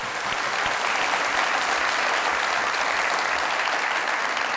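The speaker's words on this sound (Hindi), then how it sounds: "जोरदार ताली।" Loud, sustained applause from a studio audience at a Pakistani comedy talk show, a dense, steady wash of clapping that fills the whole stretch without letting up.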